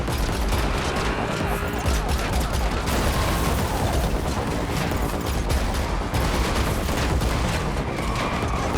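Sustained gunfire from a car chase shootout in The Matrix Awakens Unreal Engine 5 demo, a loud continuous fusillade with rapid bursts and booms filling the whole stretch.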